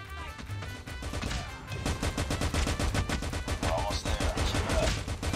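Rapid automatic gunfire fills a Call of Duty Mobile match, with dense bursts of shots and game effects playing continuously and loud throughout.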